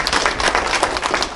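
Applause at a Korean-Russian (Goryeo-in) migration 160th anniversary committee launch ceremony in Gwangju, a dense, steady clapping of a seated audience filling the whole stretch without pause.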